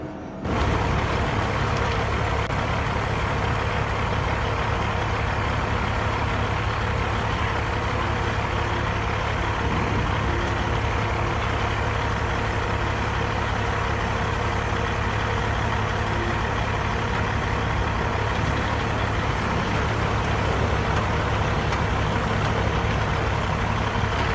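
A heavy logging truck hauling a load of big logs drives along a muddy forest road. Its loud, steady engine drone carries on without pause, close up and unbroken.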